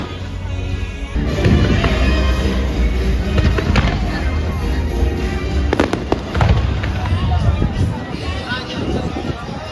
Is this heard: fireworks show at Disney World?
yes